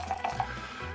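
Boiling water pours into a flask to preheat it for making yogurt, a short splashing trickle with a few gurgling bursts, close and fairly quiet.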